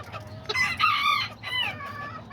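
An Azteca rooster crows in a few strained, rising bursts while hens cluck softly around it, fairly close in an outdoor yard.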